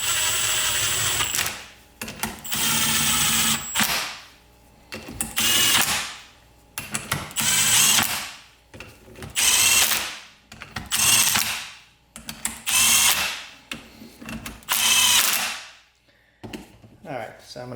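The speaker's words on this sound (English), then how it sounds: "I'm gonna set the impact to 1 so it doesn't go crazy" An impact wrench on its lowest setting tightens in a crisscross pattern with roughly eight loud, close hammering bursts of a second or two each, separated by short silent pauses.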